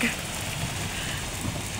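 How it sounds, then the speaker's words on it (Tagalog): Steady rain pouring down on a rainy morning in Canada, a continuous even hiss with a faint low rumble beneath, fairly close and unbroken throughout. "umuulan na naman"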